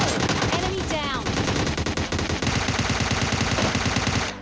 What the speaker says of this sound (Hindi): अब इन पर हम थोड़ा सा फायरिंग देते हैं बट एक भी बुलेट कनेक्ट नहीं होता है।